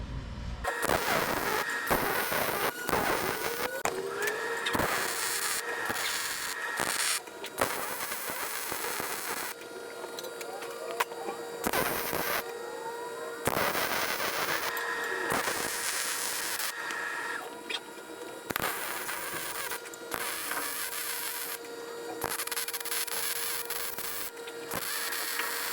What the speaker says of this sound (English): the next thing you're going to do is rosette weld